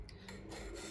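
A bar-shaped 3D-printed sanding fixture is rubbed by hand in a short, faint, raspy scrape, close up and alone, with a slight rise in texture partway through.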